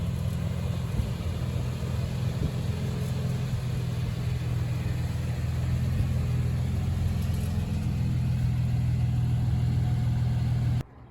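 A Toyota FJ Cruiser drives along, with a steady, moderately loud engine hum and road rumble that continues evenly before cutting off at the end.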